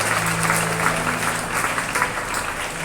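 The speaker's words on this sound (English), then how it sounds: "Once again, let's give them a big round of applause." Steady applause from a school assembly audience congratulating students on their competition wins, filling the hall evenly and continuously without pause.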